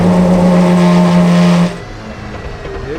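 A Pagani supercar accelerates hard on a passenger lap with its test driver, the engine a loud, steady, close-up roar that suddenly drops away to a lower rumble partway through.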